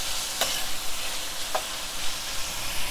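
Onion, tomato and pepper frying in a pan for a Caribbean stewed butterfish, a steady close sizzle with two brief sharp clicks of a utensil against the pan.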